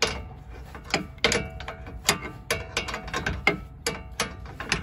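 A ratchet loosens a bolt on the control arm of a 2014 Ford Explorer, giving loud, close, irregular clicking strokes in quick bursts.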